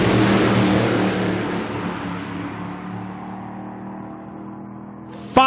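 A drag racing car at the Gainesville Regional 2018 roars down the strip, loudest at the start and fading steadily as it pulls away, with a brief sharp burst near the end.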